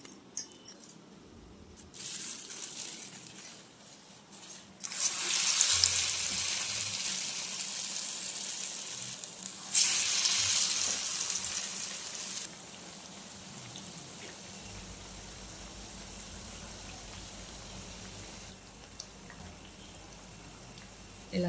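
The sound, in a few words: alasanda vadas (black-eyed pea fritters) frying in oil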